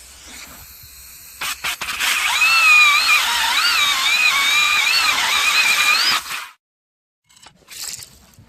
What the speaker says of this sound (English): Got to drill a hole first.